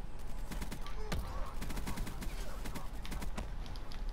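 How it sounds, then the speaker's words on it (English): Assault rifle fire from a KN-44 in Black Ops 3, heard as dense runs of rapid sharp shots and bursts over continuous game noise, close and loud. "I think I'm gonna go to my KN-44 now, get my assault rifle shot back a bit"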